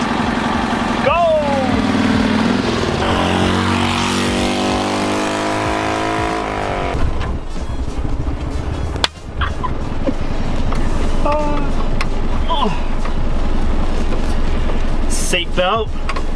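A 1972 Honda TN360 kei car pulls away and drives, its small engine revving and droning steadily close to the microphone, with people talking over it throughout.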